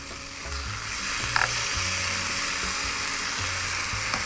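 Spaghetti Bolognese sauce sizzling in a pan while being stirred: continuous bright frying hiss with intermittent scraping and clinking of the utensil against the pan, fairly close, no talking.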